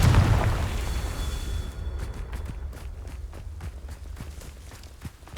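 A Confringo fire spell explodes in Hogwarts Legacy: a loud low boom bursts at the start and decays into a rumbling tail, followed by a series of faint, sharp crackling pops scattered over several seconds.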